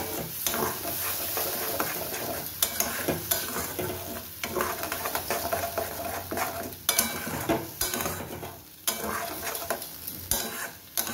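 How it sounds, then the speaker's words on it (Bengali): Spices and a spice paste sizzle and fry in a pan for a vegetarian matar paneer, stirred steadily with a utensil scraping the pan, a close, continuous crackle with no talk. "এবার ভালো করে সব মশলা আমি কষিয়ে নেব"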